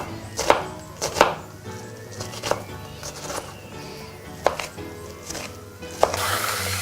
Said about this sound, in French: On va le ciseler finement et on va le faire suer.